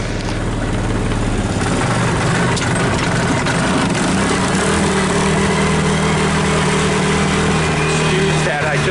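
A UTV side-by-side engine runs steadily and loud throughout, a low droning idle with a rough mechanical rumble, as it is shifted into gear.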